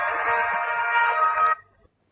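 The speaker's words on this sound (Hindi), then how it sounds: "शहरोज का फोन" A telephone rings in a TV drama scene, a steady electronic ringtone tone held for about a second and a half before cutting off abruptly, with faint background sounds underneath.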